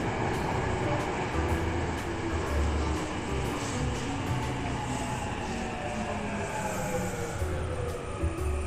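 A Tokyo Metro 03 series subway train arriving underground, a steady loud rumble and rolling rail noise holding throughout without pause.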